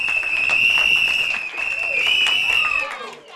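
A crowd of children at an outdoor bike presentation claps steadily, the patter running under a continuous shrill whistle blast before fading.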